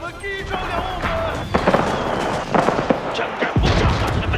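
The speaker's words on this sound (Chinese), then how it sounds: "正在轰炸他们的笨蛋！" Bombardment explosions boom and crackle in a battle in the Age of Empires IV video game. They come in a dense, continuous barrage, mixed with game voices talking over the blasts.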